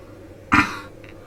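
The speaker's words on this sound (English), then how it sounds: "I let out a small, slow cough" One short, soft cough, close by, followed by a faint breath, in an otherwise quiet room.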